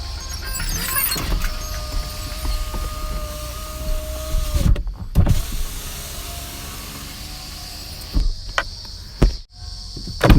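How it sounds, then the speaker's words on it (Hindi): A Tata Tiago power window motor whirs steadily, stopping with a thump, then runs again and halts with another clunk; close-up, no talking. "सारे पावर विंडोज़ को एक बार अप करें और उनको डाउन करें"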